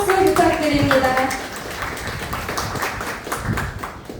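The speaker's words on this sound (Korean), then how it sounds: "뜨거운 박수 부탁드립니다" Applause breaks out at an IT industry seminar, clapping scattered and moderately loud, with a sustained tone and brief voice at the start before the clapping thins out.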